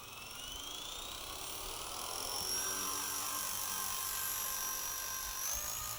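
A small Blade RC helicopter runs at full motor power, giving a steady high electric whine and rotor buzz that rises slightly in pitch, close and continuous, with no talk.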